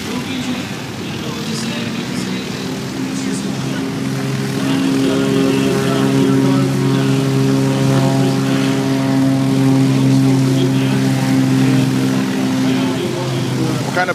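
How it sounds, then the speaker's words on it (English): An L-19 Bird Dog propeller plane drones loudly nearby at a flight show, its engine hum rising slightly and holding steady throughout, with no voices heard. "This is an L-19 Bird Dog Vietnam plane."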